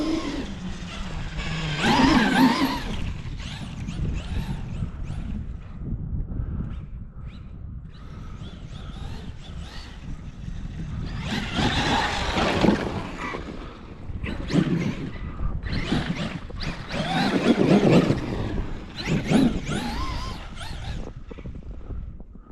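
An RC car with a Spectrum motor drives outdoors, its high motor whine surging and fading in repeated passes under steady wind noise on the microphone.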